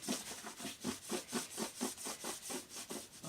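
Rhythmic back-and-forth scrubbing of stain off a hammer-marked rustic wooden tray, about a dozen even rasping strokes in steady succession, close and moderately loud with no voices.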